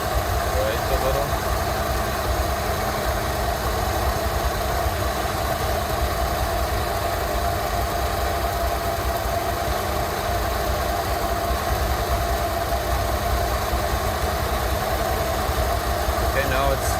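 Engine of a Rolls Royce Silver Shadow idling during carburettor tuning, a loud, steady, even drone with a low vibrating hum throughout, a voice talking over it.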